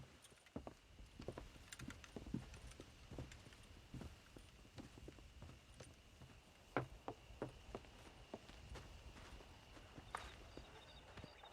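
Horse hooves clip-clopping at a walk in the Western video game Red Dead Redemption, a steady irregular patter of moderate hoofbeats over low ambient game sound, with no talk.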